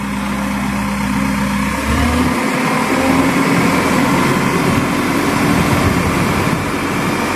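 A JCB telehandler engine revving in neutral, a steady diesel drone that rises in pitch and intensity after a couple of seconds and holds there, loud and close with no talk.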